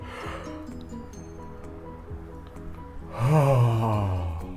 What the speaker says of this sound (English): Let's do 1 more big yawn together.